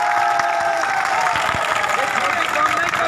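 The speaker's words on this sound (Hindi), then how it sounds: "आप लोग दिल्ली पुलिस के लिए ताली बजाएं।" An audience breaks into loud, continuous clapping and cheering for Delhi Police at a public gathering, with crowd murmur and voices mixed into the steady applause.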